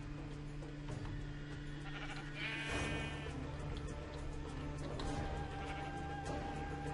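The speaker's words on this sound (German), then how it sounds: "Schafe, Hühner." Sheep bleat in the game Minecraft, with a few quavering calls over a constant low game-music drone, fairly faint and without speech.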